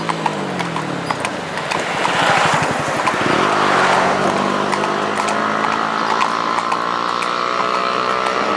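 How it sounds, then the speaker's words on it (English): A noisy motorbike engine roars past nearby, its droning pitch sliding down, while a horse being trained to pull weight clops its hooves steadily on a hard surface. "that's quite a noisy motorbike"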